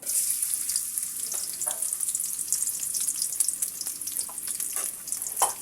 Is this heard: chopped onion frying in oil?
yes